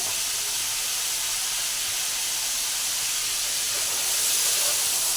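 A pot of rice boils on the stove, giving a constant, dense steamy hiss that stays loud and even throughout with no clear breaks.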